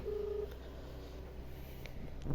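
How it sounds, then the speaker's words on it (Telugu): A phone call being dialed, heard as a short steady tone followed by faint, brief beeps against quiet background hiss, with no voices. "సో ఇప్పుడైతే మన తమ్మునికి మనీకి అయితే కాల్ చేస్తున్నాం, ఫోన్ చేద్దాం."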